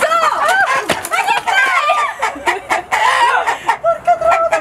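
Hens on a farm cluck and squawk close by in an agitated burst of repeated calls, overlapping and busy, with people talking among them.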